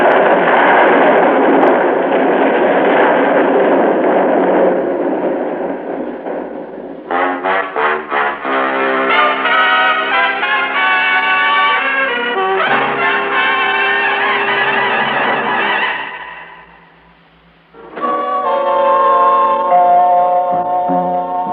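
An explosion effect in an old-time radio drama, where a building bulges out and blows: a loud, sustained roaring blast that gives way to ringing, tonal dramatic stings, dips briefly, then swells again, with no voices.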